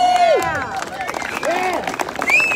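A large crowd at a gun rights rally at Legislative Hall in Dover, Delaware, cheers and whoops with scattered clapping; loud rising yells and shouts overlap in a short burst.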